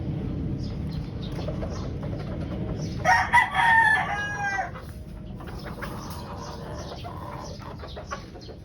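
A pure white Kelso gamefowl rooster gives one clear crow, fairly close and loud over a steady outdoor background hum.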